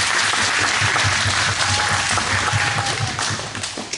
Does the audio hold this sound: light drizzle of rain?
no